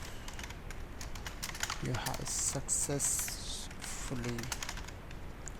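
Rapid clicking keystrokes on a computer keyboard while coding, a steady close patter running throughout beneath someone talking.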